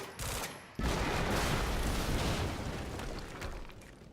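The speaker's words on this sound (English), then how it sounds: "HQ, we just heard an explosion near the harvesting perimeter." Explosive barrels shot and blowing up in the video game Quantum Break: a loud, close blast after a brief lead-in, followed by a sustained roaring, crackling rumble that slowly fades.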